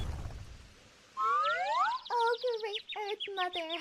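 Cartoon-style bird chirps from a song: a rising whistled sweep that breaks into a rapid run of bright tweeting calls, loud and close, with no talking.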